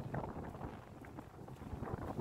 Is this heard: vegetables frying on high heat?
no